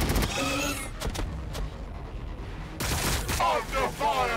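Gunfire crackles in the Warhammer 40,000: Battlesector strategy game, with rapid volleys and sharp bursts over an in-game voice and battle ambience, loud throughout.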